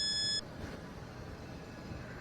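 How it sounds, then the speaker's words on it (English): A handheld ghost-detector device in a forest sawmill gives one short, steady electronic beep tone, then falls silent over faint background hiss. "It's beeping like crazy."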